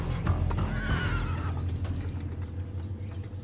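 A thoroughbred horse on a ranch lets out a loud, close whinny that trails off, with faint hoof movement underneath.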